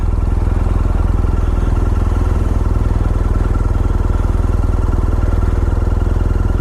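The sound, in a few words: motorcycle engine idling up a steep ramp without throttle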